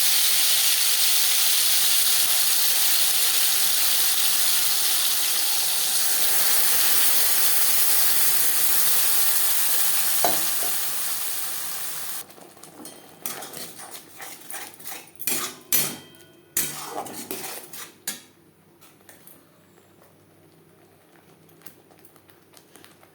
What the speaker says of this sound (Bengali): তেল গরম হয়ে গেছে, এবার দিয়ে দেবো পেঁয়াজ, টমেটো, রসুনের পেস্ট।